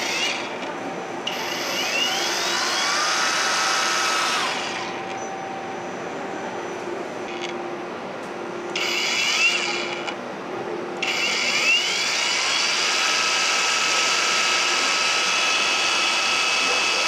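Hofen Korea hand grinder fitted with a sanding disc, running loudly and steadily at close range with a bright whine; the pitch and tone shift several times as the disc bears on and lifts off the work.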